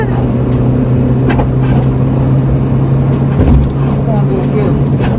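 A Toyota Starlet with a 2E engine being driven, its steady engine hum and drone heard from inside the car, with occasional faint knocks and people talking over it.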